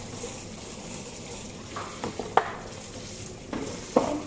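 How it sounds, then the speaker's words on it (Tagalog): Dishes are washed after a meal, with soft clinks of plates and cutlery and light splashing over a steady background hiss, a few sharper knocks standing out. "ngayon, hugasan na natin ang pinagkainan nila."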